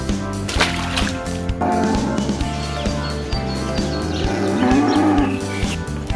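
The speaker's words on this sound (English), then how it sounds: "Cow." A cow moos in long, loud, drawn-out calls that fill the clip, with brief breaks between them and no talking.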